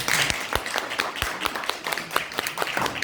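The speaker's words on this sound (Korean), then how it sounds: "김군 선생님께 큰 박수 부탁드립니다." A lecture audience gives the speaker irregular, moderately loud applause of scattered individual claps from a modest crowd.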